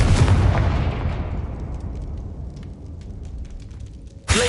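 A Confringo spell blast in the Hogwarts Legacy video game, a loud booming explosion that decays over a few seconds, followed by another sharp burst at the end.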